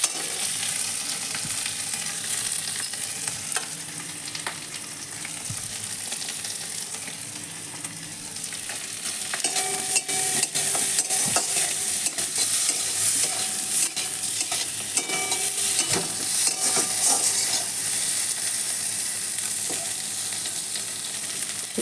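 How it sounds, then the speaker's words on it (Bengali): Boiled potatoes fry in oil with salt and turmeric, giving a steady dense sizzle with stirring scrapes throughout, growing slightly louder partway through, with no voices. "এবার আলুটাকে ভেজে নিচ্ছি একটু লবণ হলুদ একটু আলুটাকে ভেজে নেবো"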